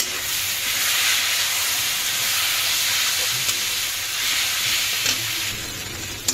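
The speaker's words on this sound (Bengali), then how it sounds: "সঙ্গে দেব অল্প একটুখানি ভিনিগার, আর দেব অল্প একটু সয়া সস। এবার করে নেব ভালো করে টস।" Street-style veg chowmein noodles tossed in a hot pan with vinegar and soy sauce give a loud, steady sizzling hiss, close up, with a few brief clanks of utensils and no talk.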